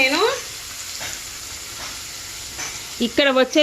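An onion-tomato masala sizzles in a pan, a soft steady frying hiss under brief spoken bursts at the start and end.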